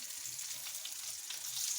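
Eggplants fry in hot oil in a pan while being prepared for karnıyarık, giving a steady, close sizzle with no talking.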